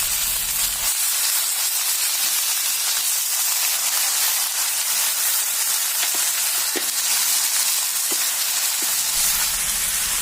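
Pork hitting a pan of fried onions for an Assamese pork curry with curry leaves, a loud steady hiss of frying that fills the whole stretch, with a few faint clicks and no talk.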